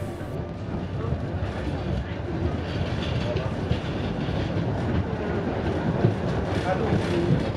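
A Gotha tram rolls through the turning loop at Bad Tabarz, a steady rumbling run with faint wheel clatter under continuous close interior noise.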